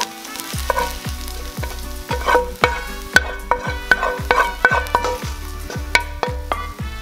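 Onions fry in a pan with smoked paprika, a loud close sizzle with repeated scraping stirs in a steady rhythm, and nobody speaks.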